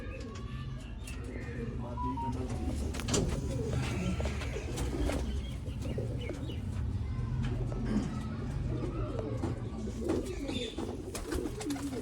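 Female breeder pigeon in Sialkot coos steadily among other birds, low repeated cooing throughout with scattered chirps and clicks and faint voices in the background.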